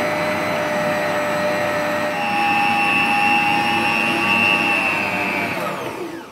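A kitchen machine kneads paratha dough of flour and oil, giving a steady, loud whirring motor drone that holds evenly and fades slightly at the end.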